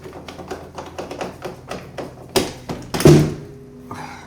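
A door in a house under renovation repeatedly knocks against its door stopper, a run of quick light taps and thunks followed by a few louder bangs, close and alone.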